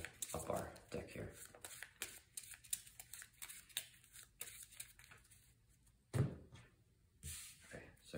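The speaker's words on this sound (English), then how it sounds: "And we can shuffle up our deck here." A deck of cards for a Deadpool versus Magneto solo card game is shuffled by hand in several bursts of riffling and tapping, close and fairly quiet, with pauses between.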